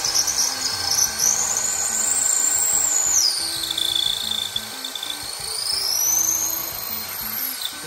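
A power drill drives screws made for cement, its high motor whine rising and falling through several sustained runs, close and loud over a low background hum, with no voices.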